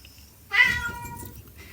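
A single cat's meow rises briefly and clearly from a quiet indoor room, close by and alone, then fades out.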